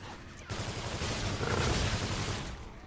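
Dual HVR submachine guns fired akimbo in Call of Duty Infinite Warfare, a loud continuous burst of fast automatic fire that ramps up and holds for a couple of seconds.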